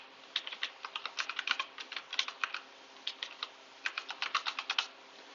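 Clicky keys on a computer keyboard tapped in quick irregular runs, close and crisp, with brief pauses between bursts of keystrokes and no voices.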